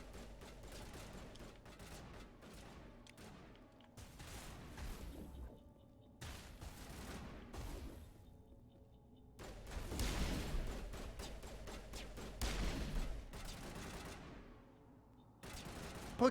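Gunfire in Mass Effect Legendary comes in repeated rapid bursts, some dense and rattling, with short pauses between them and a low rumble underneath, at moderate loudness with no talk.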